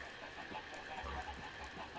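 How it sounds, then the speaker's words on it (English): Chickens cluck in a survival game set in a nuclear wasteland, a few soft, low clucks over a steady background murmur with no talking. "Dylan, stop bullying the chickens"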